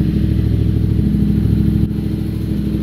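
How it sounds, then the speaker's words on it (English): A Yamaha MT-07 motorcycle engine runs steadily after starting, a loud, close, continuous low idle rumble with a brief dip near the end and no talking. "let's go ahead and start the bike"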